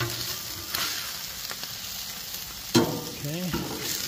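Smashed burgers sizzle on a Blackstone griddle with a steady, close frying hiss, broken by a few metallic scrapes and clanks of a spatula on the flat-top.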